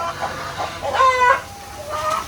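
Heritage chickens on a free-range provincial farm cluck in short, rising calls near the listener, with a louder burst in the middle and another toward the end over a quiet outdoor background.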